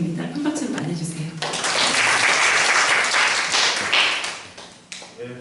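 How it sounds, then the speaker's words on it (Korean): An audience at an ecological spirituality lecture welcomes a speaker with applause, a few scattered claps under voices, then a full burst of clapping that swells and gradually fades out. "큰 박수로 맞아주세요."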